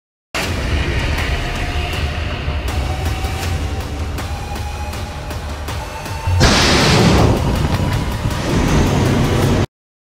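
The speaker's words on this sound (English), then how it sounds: "final test firings of the Turkish ATMACA anti-ship missile conducted successfully" Turkish ATMACA anti-ship missile launched in a test firing from a corvette, a sustained loud rushing roar that surges into a harsher, brighter blast partway through, then cuts off abruptly.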